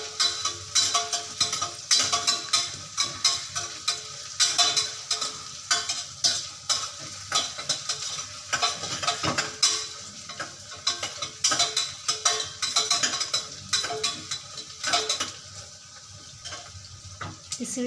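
Spoon stirring and scraping prawn biryani masala in a cooking pot, with a sizzling fry underneath; close, repeated irregular scrapes and clatters, no voices.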